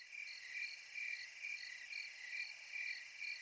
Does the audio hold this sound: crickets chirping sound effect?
yes